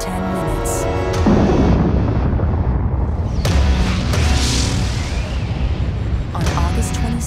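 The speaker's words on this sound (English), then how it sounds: "Explosions boom from the bottom of the crater every 10 minutes." Powerful explosions from the bottom of a volcanic crater produce deep, sustained booming and rumbling roars that rise and fall in loud waves, one after another, with no speech.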